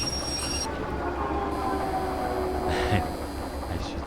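Train in the video game Derail Valley slowing to a stop, a steady loud rumble of rolling wagons with faint high wheel squeal and a brief clank near the end.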